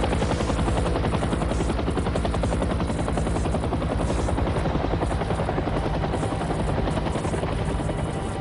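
A military helicopter flies over the Novaya Zemlya archipelago in the Russian Arctic, where polar bears are hunted from the air. Its rotor chop is loud and continuous, a steady close drone with rapid beating throughout, and no voices.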